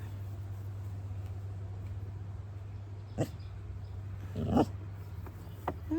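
Pet dog whining and vocalizing indoors, a few short separate whimpers and grumbles over a steady low electrical hum, fairly close but not loud.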